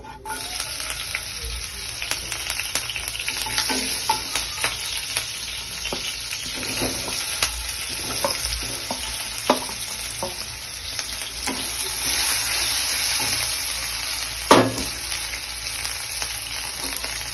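Potatoes frying in a pan for saagu khichdi, a steady loud sizzle with scraping stirs at irregular intervals and one sharper clatter near the end, no voices.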